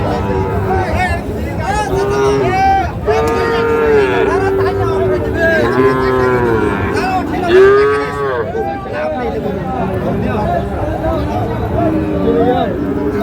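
Sahiwal cattle moo loudly and repeatedly at a busy livestock market, with several long, drawn-out calls from nearby animals rising over a constant background of crowd chatter and voices.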